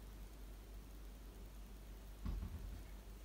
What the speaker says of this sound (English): it's pouring with rain